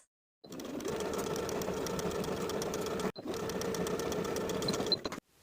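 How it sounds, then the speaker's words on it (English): A sewing machine stitches straight across the yoke seam of a top through several fabric layers: a steady close whirring run, a brief pause, then a second run that stops abruptly. "Sew straight across through all layers with a 5/8 inch seam allowance"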